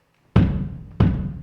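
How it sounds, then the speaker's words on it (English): Two deep bass drum kicks played with a foot pedal, loud and close, each a sharp low thump with a short ringing decay, spaced about two-thirds of a second apart. "We get that big low kick."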